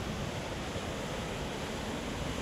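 White water rushing down a river and over falls, a dense, steady roar that fills the whole clip with no break.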